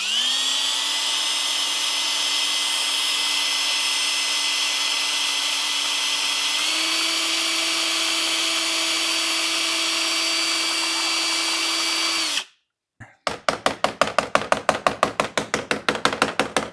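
A power drill whirs steadily at a high, even pitch, shifting up once, then stops and gives way to a rapid run of sharp grinding taps against a Dollar Tree tempered glass phone screen protector.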